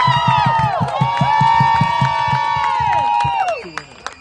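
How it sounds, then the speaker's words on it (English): At an Atlanta SC versus Miami FC soccer match, a second cheer-off round brings loud overlapping shrieks and cheers from young fans, backed by steady rhythmic stomping or clapping, before the noise tapers off near the end. "Can we have a cheer-off?"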